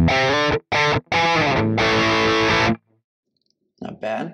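Chunky bursts of tight crunch-distorted electric guitar through a Quad Cortex, several short chugs then a longer ringing chord, a pause, and another distorted strum.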